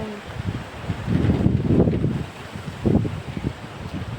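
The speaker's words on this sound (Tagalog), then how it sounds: "Yan, lakas ng hangin." Strong typhoon wind in Taiwan buffets the microphone in loud, low gusts that swell and ease, roaring hardest in two surges beside a river.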